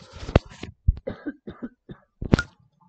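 Several close, loud coughs from a man with a cold in quick succession, with short raspy throat sounds between them, then a final harder cough.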